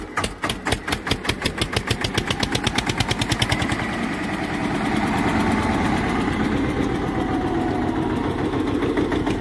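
An Eicher tractor's diesel engine running up close, starting as a rapid, loud, evenly spaced thumping that speeds up and blends into a steady rumbling drone.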